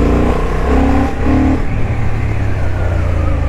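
A 2023 Honda CB750 Hornet motorcycle being ridden on a road, its engine droning steadily and loudly close by, with rising revs early on and a continuous throaty rumble throughout, no voices.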